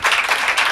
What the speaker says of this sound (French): applaudissez pour vous-même le public